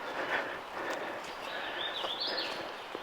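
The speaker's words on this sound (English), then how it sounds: "Listen to those birds singing." Birdsong along a sunlit forest trail near Basin Creek in Doughton Park, with a few bright chirps and a warbling call rising over a steady outdoor hiss, faint and somewhat distant.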